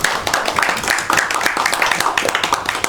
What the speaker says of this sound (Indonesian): Beri tepuk tangan dulu dong buat temennya.